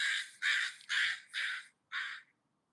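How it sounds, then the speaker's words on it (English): Crows cawing outdoors in the woods, five loud harsh caws in a steady series close by, each about a third of a second long, then silence. "Got the birds out here laughing too."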